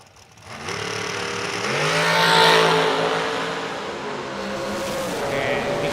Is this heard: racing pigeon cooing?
no